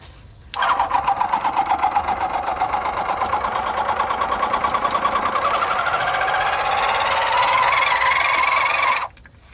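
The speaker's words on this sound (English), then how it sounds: "Here the manual transmission fluid is being pumped out with a low-cost oil transfer pump." A low-cost oil transfer pump drains manual transmission fluid from a 1987 Ford F150's 3-speed gearbox, a loud, close, rapid rhythmic chugging that runs steadily for about nine seconds, then stops abruptly.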